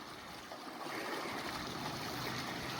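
White water rushes through a river near a fallen tree, a loud, dense, continuous roar and hiss of churning water with no voices.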